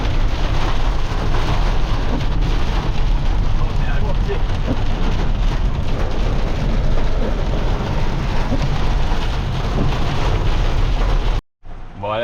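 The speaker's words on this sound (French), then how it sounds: "mais grosse pluie" Heavy rain pours steadily and loudly outdoors, a dense continuous roar filling the scene with rumbling low end before cutting off abruptly near the end.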